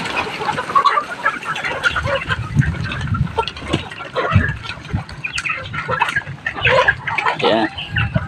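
A flock of Rhode Island Red chickens, nearly five months old, clucks and calls near the listener in a busy, overlapping chorus that runs without pause.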